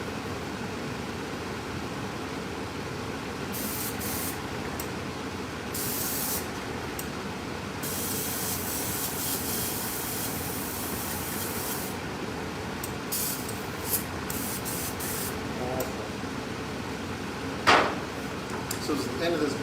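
An airbrush fed by a tankless compressor sprays paint onto an RC car body in repeated hissing bursts of varying length, with a constant low compressor hum beneath and a brief knock near the end.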